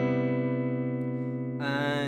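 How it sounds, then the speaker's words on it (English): An electric guitar played through a guitar amplifier and captured by a microphone gives a steady, sustained harmonic tone that shifts to a brighter, buzzier chord about three-quarters of the way through, with no speech. "Or this guitar amplifier, which if I record something through this amp, through with that mic there, sounds like this."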